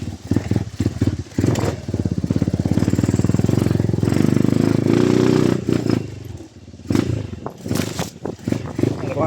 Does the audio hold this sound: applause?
no